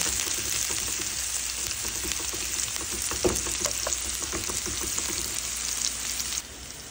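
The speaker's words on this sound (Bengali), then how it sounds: "পেঁয়াজ কুচি দিয়ে ভালো করে ভেজে নেব" Chopped onion fries in a pan with a continuous loud sizzle, broken by a few crackles and stirring clatters. The sizzle drops off slightly just before the end.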